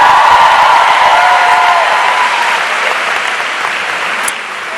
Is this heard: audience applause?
yes